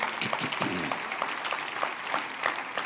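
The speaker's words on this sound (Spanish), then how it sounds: "Ese aplauso fuerte Rey" Loud applause from a church congregation at a midweek devotional service, a continuous crackle of many hands clapping together, fairly close and steady for a few seconds.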